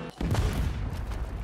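Explosions and gunfire from the video game Red Dead Online: a dense, continuous barrage of booms and shots rumbling loud and close for the whole stretch, with no pause.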